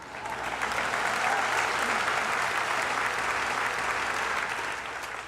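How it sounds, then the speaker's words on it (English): A crowd applauds steadily, a dense wash of clapping that swells in and holds for several seconds before easing slightly at the end. "you can clap for that"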